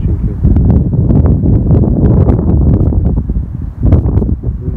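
Strong wind buffets steadily against a thin fishing rod during a fishing trip at sea, a loud, continuous gusting roar with rough, fluttering bursts.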